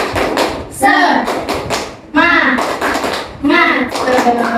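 A school class performs the 'tepuk semangat' rhythmic clapping, with quick sharp claps mixed with loud chanting voices in short repeated phrases.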